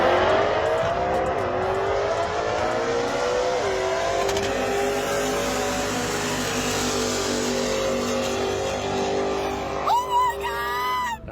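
A 1050 HP Subaru WRX accelerates hard on a mountain road, its engine rising in pitch through several gear changes. The loud, sustained roar is followed by brief whooping and cheering from onlookers at the end.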